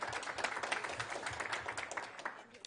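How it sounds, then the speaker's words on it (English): An audience claps in a steady round of applause, many hands pattering densely at moderate volume throughout, with faint voices mixed in. "So give yourselves a round of applause for that."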